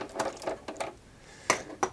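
Screw being backed out of the casing of an Apple IIc monitor, a series of quiet clicking ratchet-like ticks at uneven intervals, close and faint with no talking.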